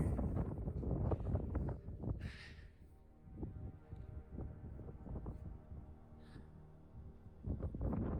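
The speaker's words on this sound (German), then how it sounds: "Ist leider immer noch ganz schön windig" Strong outdoor wind buffets the microphone in heavy low rumbling gusts that rise and fall over several seconds, with a faint high hiss between them.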